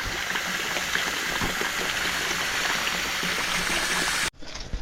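Water streams and trickles continuously from a holey bucket being carried outdoors, a steady splashing rush that cuts off abruptly near the end.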